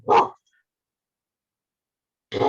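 Two short, sharp dog barks, one at the start and one at the end, separated by silence.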